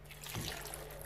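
Broth poured into a Moulinex Volupta soup maker, a brief soft trickle of liquid heard up close and alone.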